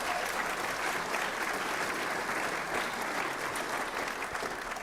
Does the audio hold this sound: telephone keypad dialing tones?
no